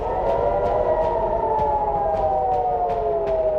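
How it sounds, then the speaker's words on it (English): A loud air raid siren in Tel Aviv wails steadily during a missile attack, its tone slowly sliding lower, with rhythmic clicks or pulses ticking beneath it. "Air raid sirens in capital Tel Aviv went off"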